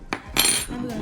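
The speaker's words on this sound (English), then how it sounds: "we don't have no more spoons. We're gonna wash them" Metal spoons clink and clatter against each other and a dish while being washed in a home kitchen, a few short bright knocks close up over about a second.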